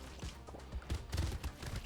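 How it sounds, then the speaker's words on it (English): Enemies burst apart in rapid succession during a Brotato run, a dense stream of overlapping pops and thuds with heavier booming hits near the end, loud and continuous with no talk. "Really nice seeing all these things just explode constantly"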